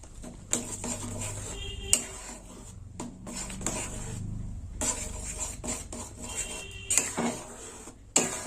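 Amra tok being stirred in a pot after poppy seed paste is added, with intermittent close scraping and clinks of a spoon against the pot between quieter bubbling stretches.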